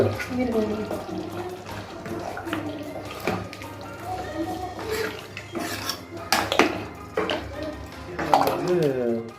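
Water splashes and trickles into a pot for country chicken curry among clinking metal kitchenware, with a person talking over it throughout.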